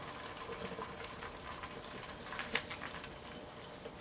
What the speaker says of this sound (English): heat your steel to non-magnetic, and give it an oil quench